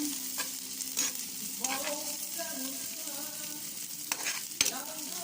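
Meat sizzles and fries in a pan for Bicol express, with sharp scraping stirs of a utensil breaking through the steady crackle at irregular intervals, close and fairly loud.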